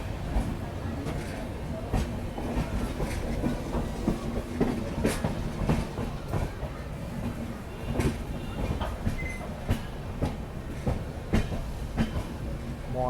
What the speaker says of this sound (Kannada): ಇಲ್ಲಿ ನೋಡ್ರಿ ಡಿಪಾರ್ಚರ್ ಆಗ್ಯಾವ ನಾವು ವಿಜಯಪುರ ರೈಲ್ವೆ ಸ್ಟೇಷನ್ ಅಂತ